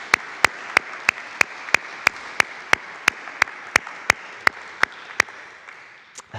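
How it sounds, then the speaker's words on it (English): An audience applauds inside Hendricks Chapel after a performance: a steady wash of clapping fills the room, with one close pair of hands beating a sharp, even rhythm on top before the noise fades. "So please join me in applauding Julie."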